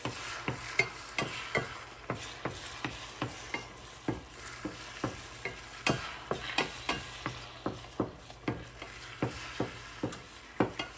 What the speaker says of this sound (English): All right, just scrambling up these eggs.